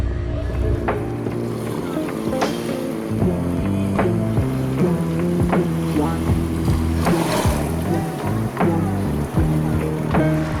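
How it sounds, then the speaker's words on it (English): A small boat motors steadily across water toward a beach in the Komodo Islands, Indonesia, engine droning under splashing and wind, with a voice faintly present beneath the continuous noise. "we're going to take the small boat over to the beach"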